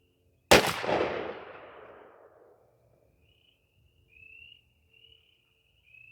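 A single sharp blast from a Tristar Viper 28 gauge shotgun firing a Kinetic TSS #9 shell, loud and close, with a long reverberant tail that fades over about two seconds, followed by faint insect chirps.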